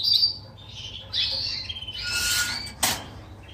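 Canaries chirp and twitter in short bright bursts, a few calls overlapping, followed by a sharp squawk near the end, in an aviary during breeding season.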